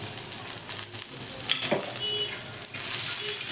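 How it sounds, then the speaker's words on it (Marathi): Peanuts, garlic cloves, cumin and green chillies roasting in a pan for chilli thecha, producing a continuous crackling sizzle with a few light stirring scrapes, close up and with no talking. "हे आता मिरच्यासोबत छान भाजून घ्यायचं आहे"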